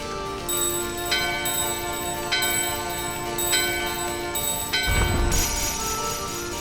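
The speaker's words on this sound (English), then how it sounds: "What's this bell here?" Chiming bell in the Final Fantasy IX video game: several clear, ringing strikes at steady intervals over a continuous musical background, followed by a louder, denser burst near the end.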